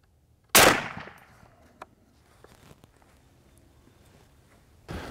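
Desert Tech MDRX rifle fitted with a Dead Air Sandman S suppressor, two loud suppressed gunshots on an outdoor range: a heavy boom with a decaying tail, a few faint clicks, then a second shot about four seconds later.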